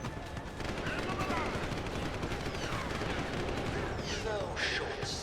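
Gunfire from a gun in Deus Ex: Human Revolution, a steady run of rapid shots blending into a dense, continuous clatter with game ambience underneath and some talk mixed in.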